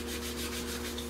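Steady, rhythmic rubbing of fine 600-grit sandpaper back and forth over a painted fiberglass truck cap, close by and moderately quiet, with no voices.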